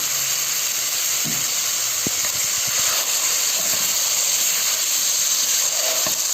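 Chicken sautéing with spices in a pot for Iraqi dill rice, a steady loud sizzle and hiss with a few soft clinks and scrapes of a utensil, no talking.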